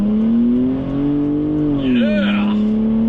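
An Audi Allroad pulls out into traffic from inside the cabin, its engine note rising and falling steadily as it accelerates, with a brief chirp and tire sounds near the end.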